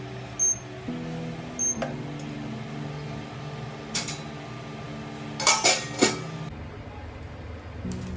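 A pot of rice set down on an induction cooktop in a home kitchen, with a few light metallic clinks and knocks, then a short cluster of louder clattering near the end over a quiet hum.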